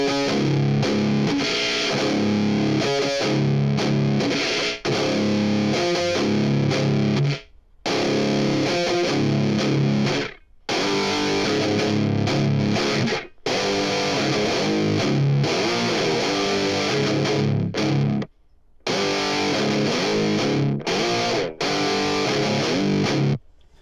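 Heavily distorted electric guitar chugs loudly and continuously, recorded in GarageBand, with the sound abruptly chopping to silence several times as a noise gate cuts in.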